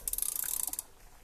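A ratchet wrench turns out the engine oil drain plug on a Nissan Juke Nismo, giving a close, fast run of about twenty even clicks lasting under a second before stopping, with no voices.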